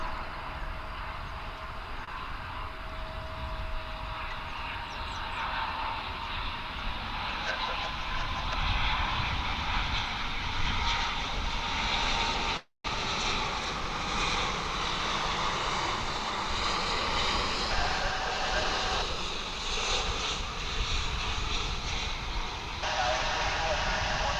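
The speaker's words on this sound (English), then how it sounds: "Here comes the morning flight from Maui in Hawaii on Runway DFW." An American Airlines airliner on the morning flight from Maui arrives on the runway at Dallas/Fort Worth International Airport, its engine roar a steady, broad rumble holding for over twenty seconds with a brief dropout midway.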